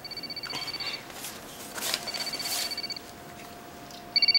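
A telephone rings indoors in repeated bursts of bright electronic trilling, separated by short pauses, with a fresh burst starting at the end.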